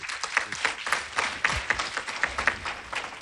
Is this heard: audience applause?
yes